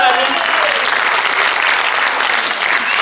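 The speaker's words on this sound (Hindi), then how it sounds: "इनके लिए जोरदार तालियां।" Loud, dense applause from an audience at a recognition event at Shaheed Smarak in Jabalpur, welcoming a team leader called onto the stage, sustained steadily throughout with no pause.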